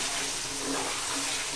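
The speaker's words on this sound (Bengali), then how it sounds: "এখন জল দিয়ে দেবো" Water pours into a pan of chicken being braised for chicken kosha, a brief, steady rushing splash with a faint sizzle underneath, close and loud, and no one talking.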